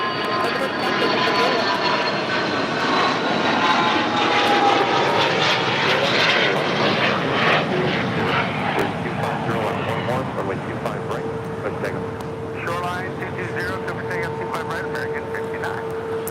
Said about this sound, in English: That was a Dassault Falcon